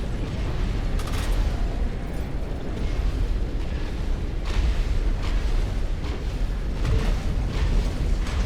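Players shooting in the steampunk PvP/PvE video game Sand: a dense, continuous wash of booming explosions and gunfire bursts, loud and sustained, with sharper blasts popping out now and then over a constant rumbling din.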